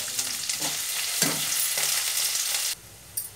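Hot oil tempering with dried red chillies, curry leaves, mustard seeds and cashews sizzles loudly and close with stirring scrapes, then cuts off abruptly near the end, leaving quiet.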